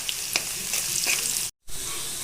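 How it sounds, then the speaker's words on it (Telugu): Onions frying and sizzling in a pan for pepper chicken, with a steady broadband hiss and occasional stirring scrapes, briefly cut to silence near the end before the sizzle resumes. "ఆనియన్స్ గోల్డెన్ బ్రౌన్ వచ్చేంత వరకు ఫ్రై చేసుకున్నాను"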